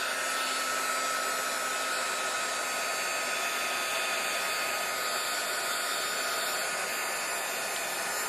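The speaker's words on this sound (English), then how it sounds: "I'm going to have to put my heat gun on" A heat gun blowing hot air to dry craft pigment ink, a loud continuous whooshing roar with a steady whine, close and unbroken throughout.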